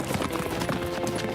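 A cartoon horse's hooves clip-clopping as it gallops away, a brief run of quick, rhythmic hoof beats that is close and fairly loud.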